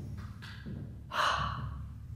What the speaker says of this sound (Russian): на 4 счета вдохнуть и потом резко выдохнуть